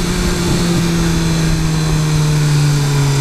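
A 2015 BMW S1000R motorcycle's engine drones steadily and loudly from close by, its tone holding level with a slight falling pitch as it decelerates under engine braking, with no talking.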